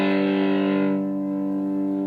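Electric guitar chord played through a Morley Little Alligator distortion pedal at full distortion, a loud buzzing saturated tone whose bright edge fades after a second while the body sustains alone.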